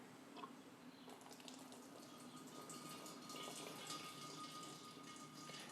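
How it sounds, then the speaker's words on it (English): Cooled honey ale wort pours steadily through a sanitized funnel with a small screen into a carboy, a continuous close-up splashing and gushing stream that grows slightly fuller and louder midway. "we're going to go ahead and fill up the carboy with this"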